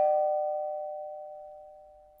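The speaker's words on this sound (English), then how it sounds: "Ding dong!" A doorbell chimes once, a single clear bell tone that rings out and slowly fades in a quiet room, heard alone without any talking.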